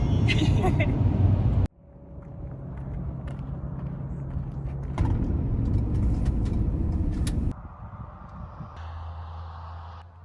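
A van drives along a road in Utah, with a steady low engine and tire rumble that shifts in level a few times, heard from inside the cabin.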